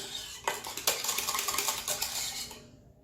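Brioche dough being mixed by hand in a bowl, a close run of clinking and scraping strokes against the bowl that fades out at the end.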